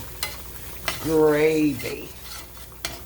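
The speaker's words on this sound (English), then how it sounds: "So just let that keep browning. You don't want to get that raw flour taste." Flour roux browning in a pan while a spoon stirs it, with soft sizzling and a few distinct scraping clicks against the pan; someone speaks briefly in the middle, partly covering it.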